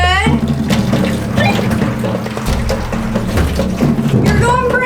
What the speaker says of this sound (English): I'm just putting water up here